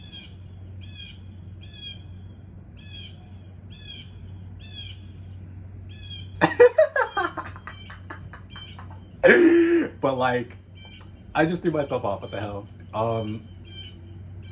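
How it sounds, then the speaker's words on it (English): Birds call outdoors in short, faint, regular chirps throughout, while a person talks over them in bursts. "Birds are so funny to me."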